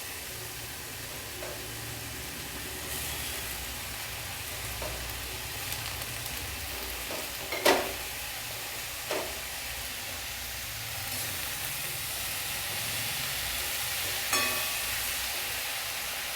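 Spinach tipped into a hot pan for a mung dal and spinach ghonto sizzles in a steady, fairly soft hiss, with a few brief louder crackles and clatters as it lands and is stirred.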